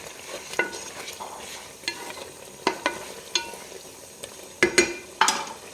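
A roasted-coconut chicken curry is stirred in a pan with a run of distinct scraping and clanking strokes over a soft, low sizzle. Close and fairly quiet, with no voices.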